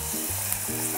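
Flour-coated sweet potato pieces fry in hot oil, a steady close sizzle and crackle with no talking.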